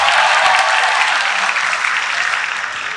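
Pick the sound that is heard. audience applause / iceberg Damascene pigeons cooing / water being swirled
audience applause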